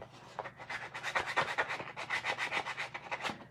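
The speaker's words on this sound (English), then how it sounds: "I'm going to sand this one." Rhythmic back-and-forth strokes of 150 grit sandpaper rub across a small Dollar Tree DIY craft piece, close and fairly soft, about a dozen scratchy passes with no talking.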